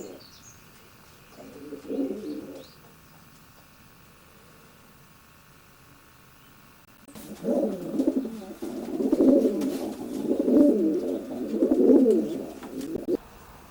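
Racing pigeons coo in their loft during breeding season, soft repeated throaty coos coming first in a short quiet burst, then in several louder, closer rounds over a faint steady background hum.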